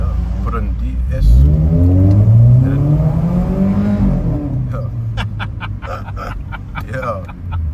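Modified VW Polo with an aftermarket exhaust revving inside a tunnel, a loud rising engine roar swelling for a few seconds and then settling into a lower rumble with echoing reverberation, joined later by sharp clicks and other traffic noise.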